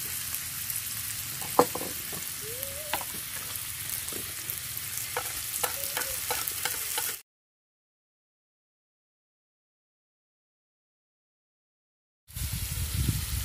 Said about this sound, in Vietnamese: giờ mình đổ vào xào chung cho thấm gia vị á